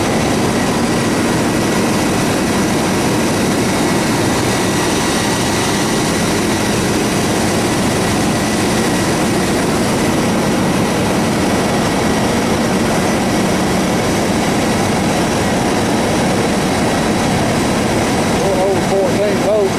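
A car engine idles steadily during an alternator check, a loud continuous running drone that holds level throughout, with faint voices mixed in.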